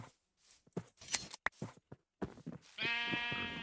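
A sheep bleats loudly in a video game with a wavering, harmonic cry near the end, after scattered soft clicks and footstep-like taps.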